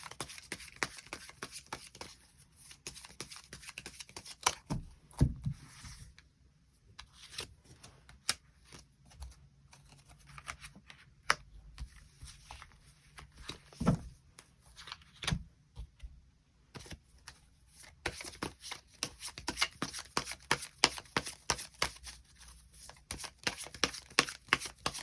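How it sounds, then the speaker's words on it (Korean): Tarot cards being shuffled and drawn, producing a steady run of soft papery flicks and riffles with brief pauses, close and fairly quiet, with no talking. "추가 카드 뽑아보도록 하겠습니다"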